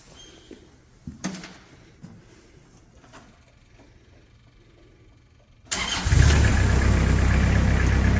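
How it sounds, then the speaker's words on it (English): A few quiet clicks and clunks, then the Kubota engine of a 2014 Moffett M55 truck-mounted forklift cranks and catches, settling into a loud, steady idle that continues to the end. "I'm going to take this Kubota engine to life."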